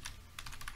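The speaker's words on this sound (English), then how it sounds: "I'll type" Fingers type rapidly on a computer keyboard, with two bursts of crisp, close key clicks separated by a brief pause.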